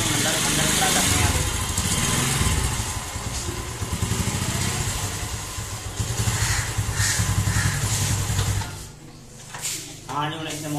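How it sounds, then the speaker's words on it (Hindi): A motorcycle's engine runs steadily at close range while it is moved inside and parked, with people talking over it; the engine sound drops away near the end. "मोटरसाइकिल अंदर खड़ा करते हैं"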